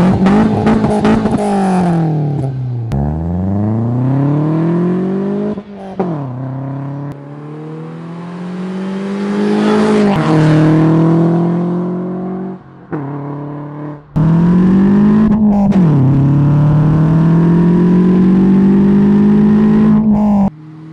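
A Peugeot 206 S16 engine revs hard again and again, each loud climb in pitch breaking off between throttle blips, with a long rising pull in the middle, close and alone.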